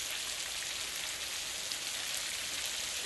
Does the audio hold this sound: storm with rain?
yes